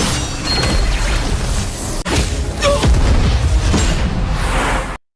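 An animated flying sword explodes in a fantasy fight. A dense, loud roar of blast and rumble fills the scene, with one sharp break midway, and then cuts off abruptly.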